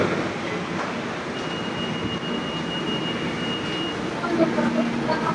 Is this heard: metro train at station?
yes